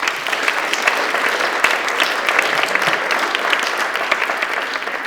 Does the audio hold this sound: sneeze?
no